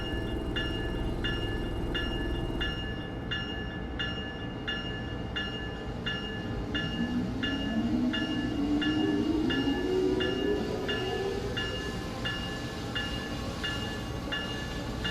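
Amtrak ACS-64 electric locomotive in Train Sim World 6 pulling away from Metro Park Station: a steady rumbling run with a rising electric motor whine and a regular ticking beat throughout, loud and continuous with no talk.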